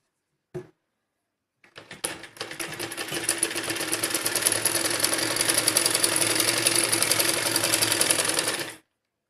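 A sewing machine runs steadily, stitching the armhole seam of a fancy gown. A brief click comes first, then a continuous, close, loud mechanical whir for about seven seconds, with no talk.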